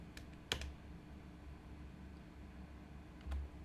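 Quiet typing on a computer keyboard while entering a product code for a Dell laptop in QuickBooks Enterprise, a few sparse key clicks and a soft thump over faint background hiss.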